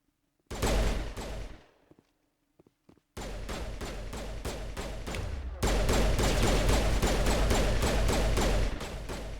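Rapid automatic gunfire in the sci-fi shooter Mass Effect rattles out in three loud sustained bursts, separated by a brief pause with a few isolated shots, the final burst heaviest and most continuous.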